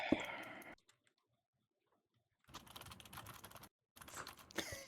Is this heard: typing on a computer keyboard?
yes